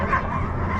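Young sled dog puppies give short, overlapping yips and barks, fairly close and continuous under crowd chatter and a low engine rumble from a riverboat cruise.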